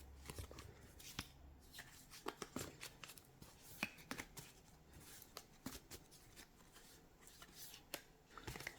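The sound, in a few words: shuffling tarot cards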